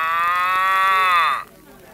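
A person with a cold imitates a cow, giving one long, loud, nasal moo that holds steady before sliding down and cutting off, alone without talk.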